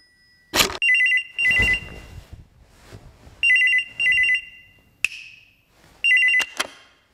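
A telephone rings during a comedy sketch after a call is placed: three bursts of bright electronic double-ring tones, loud and close, separated by short pauses and a few clicks, with no talking over them.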